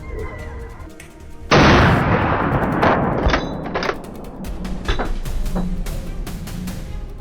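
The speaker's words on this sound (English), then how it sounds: "The sound of gunfire echoed from all directions" A sudden loud burst of gunfire erupts during a wild boar hunt in a swamp, ringing out with long echoing reverberation, followed by scattered sharper shots and fading rumble.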